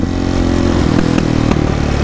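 A modified Kawasaki 450 motorcycle engine rumbles loudly and steadily nearby, with a throaty, crackling burble as the throttle is let off.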